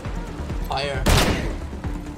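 Gunfire bursts in the Wasteland video game: a loud broadband blast about a second in, then a few softer shots beneath a voice.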